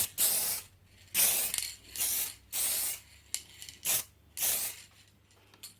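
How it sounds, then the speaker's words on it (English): Short bursts of black spray paint hiss from an aerosol can onto a 1931 AWA Radiola radio cabinet during restoration, about six bursts in a loose rhythm with brief pauses between, close and fairly loud with no talking. "I'm going to give it another quick spray of black and just see how it reacts."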